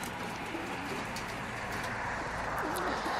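Soft pigeon cooing amid a steady, noisy background, low murmuring coos running through the few seconds without a clear break.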